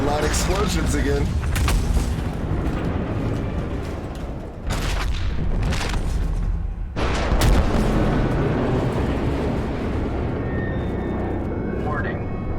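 Repeated loud blasts from the video game Soma: several heavy, booming bursts with rumbling tails, separated by short pauses, with a voice speaking over them.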